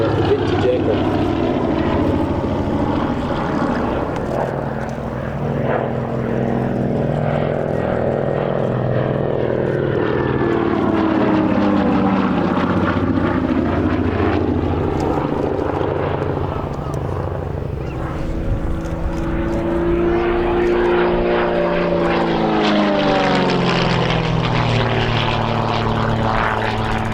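Vintage propeller aircraft flying at an airshow, a continuous loud engine drone that rises and falls in pitch as it passes, with some voices underneath.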